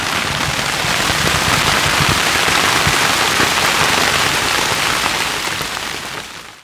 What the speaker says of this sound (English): it's like sleeting, hailing, really coming down right now